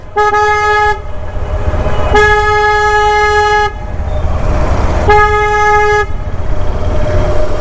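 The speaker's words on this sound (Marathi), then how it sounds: "असा हॉर्न वाजलं तरच बघणार." A loud vehicle horn honks three times, each blast long and sustained, over a constant low engine rumble of nearby traffic.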